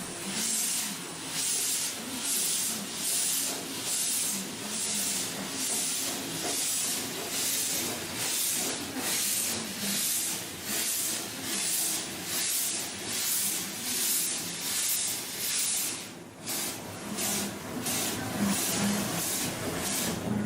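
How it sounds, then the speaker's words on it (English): A steam locomotive in New Zealand hisses steam loudly and steadily, a broad continuous rush with rhythmic pulsing surges as the engine stops and changes direction. "A steam engine that stops and changes direction."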